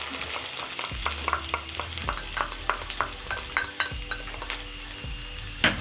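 Onions sizzle in hot oil in a pan over medium heat, a steady close frying hiss with repeated light scraping taps from stirring.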